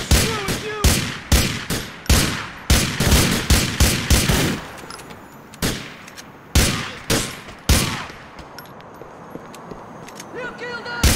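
Gunfire at a funeral shootout in GTA 4, loud rapid bursts and single shots in clusters with short gaps, ringing tails between them, close and intense, fading to sparser shots later.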